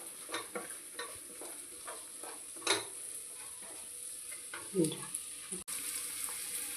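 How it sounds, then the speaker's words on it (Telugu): Brinjal for guthi vankaya curry fries in oil, a faint sizzle broken by soft clicks and scrapes of stirring at an uneven pace. "ఇది కొంచెం ఇలా ఆయిల్లో వేసుకునండి, కొంచెం వేగాలండి"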